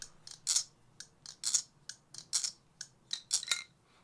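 A Machinewise Opus balisong butterfly knife is flipped, producing quiet, crisp metallic clicks and taps in a quick irregular rhythm, about a dozen close, light impacts with no talking.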